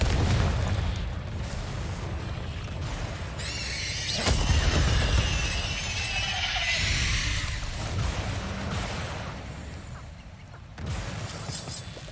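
Spell combat in the Hogwarts Legacy video game, with a Confringo spell detonating in a loud fiery burst amid crackling, squealing magical effects and booming impacts that rumble on for several seconds.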